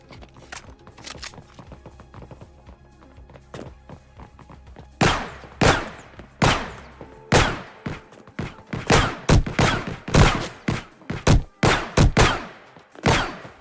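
Gunfire from a gun in an Unreal Engine video game: after a quiet stretch, a run of loud, sharp shots bursts out in irregular quick succession, some clustered close together.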